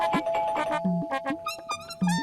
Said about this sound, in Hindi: सच में कोई डोरबेल बजा रहा है